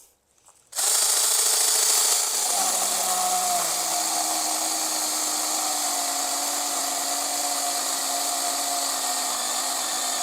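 Ingco saw starting up and cutting wood in a test, a sudden loud high-pitched whine whose pitch sags slightly under load, running continuously and close.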